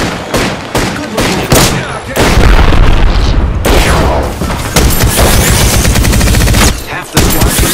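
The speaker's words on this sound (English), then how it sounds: "I am taking fire, friends." Gunfire in the video game Apex Legends: loud rapid automatic bursts and single shots, nearly continuous with brief gaps and booming hits, dense and close.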